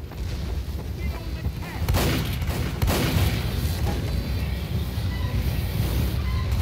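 Team Fortress 2 payload-match gunfire crackles in rapid bursts, with heavier booming volleys near the two- and three-second marks over a constant noisy battle wash.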